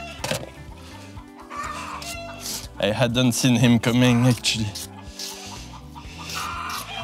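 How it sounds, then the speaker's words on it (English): A hen clucks in a workshop after laying an egg, her calls running in short bursts under a man's nearby speech. "it sounds like a hen laid an egg in the workshop"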